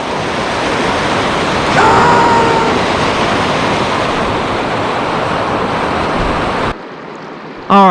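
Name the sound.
water flowing over a creek spillway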